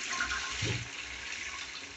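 A wash-down ceramic toilet flushes a full 6 litres of water, a steady close rushing gush with a brief low gurgle partway through, and no one speaking.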